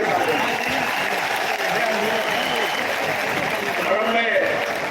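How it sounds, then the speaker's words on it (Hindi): Crowd at a BSP political rally in Bhind, Madhya Pradesh, applauding to welcome Mayawati, a dense, steady wash of clapping from many hands, loud and continuous, with crowd noise mixed in and no clear speech. "मान्य बहन जी का स्वागत अभिनंदन तालियों की कटकल से"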